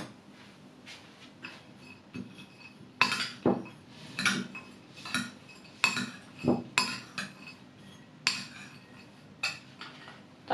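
A spoon clinks and scrapes against a bowl while stirring apple filling with sugar and cinnamon, a series of close, sharp clinks in an uneven rhythm over a quiet background without speech.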